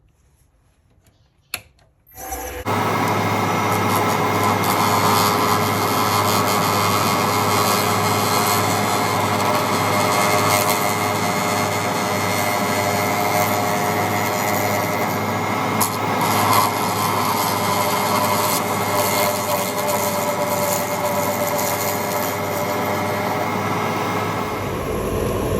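A pen cap is turned on a lathe with a round carbide cutter: a click as the lathe starts, then a loud, steady motor drone with scraping cutting noise over it, running continuously before cutting off at the end.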